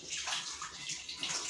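A stone grinding slab being washed with water, a continuous close splashing and rushing of water over stone for a short stretch, no speech.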